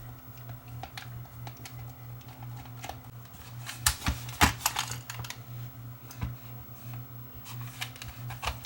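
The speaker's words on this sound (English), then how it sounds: "We'll first start by removing the screw that holds the antenna in place" A screwdriver works the screw out of the antenna on a Retekess TR606 AM/FM cassette recorder, making small, close plastic ticks and clicks, with a louder burst of rattling clicks midway, over a faint hum.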